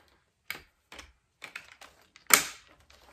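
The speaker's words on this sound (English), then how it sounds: "This is the other portion that is supposed to just click on." Plastic clicks and snaps as a motorhead attachment is fitted onto a Dyson V7 cordless vacuum, several sharp close taps spaced out, ending with one louder snap.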